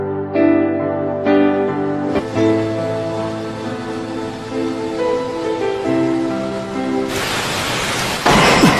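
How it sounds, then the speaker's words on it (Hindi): Rain falls steadily as a dense wash of hiss that swells louder near the end, layered over sustained music in the background. "बारिश हो रही है, इससे उनकी गंध मिट जाएगी।"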